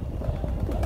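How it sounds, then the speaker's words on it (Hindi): Pigeons coo softly nearby in a low, throaty murmur, continuous and close, with no talk over it. "ये देखो नई कबूतरी है बिल्कुल नई"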